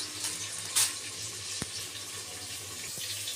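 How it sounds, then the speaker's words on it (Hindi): Khichdi rice and lentils being rinsed under a running tap, a steady hiss of water with a brief louder splash and a couple of small knocks, close and without voices. "ये है मेरी खिचड़ी, इसको अच्छे से वॉश कर लेती हूँ।"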